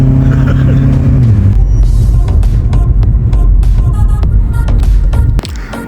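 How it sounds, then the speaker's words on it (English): A 2007 Honda Accord CM5 with a K24 VTEC engine and new suspension drives on a test run, its engine drone and road rumble loud and continuous with throbbing low tones and brief knocks, ending in a sudden drop. "just took the car for a test drive to test out the new suspension"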